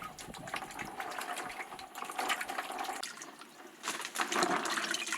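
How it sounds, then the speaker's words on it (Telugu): Bitter gourds are washed in water, with steady splashing and running liquid sloshing close by for a few seconds, pausing briefly and then surging again. "కడిగేసి ఆరబెట్టేసుకోవాలండి ఈ కాయలని"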